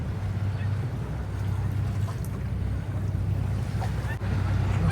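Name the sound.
boat motoring out backwards from the wharf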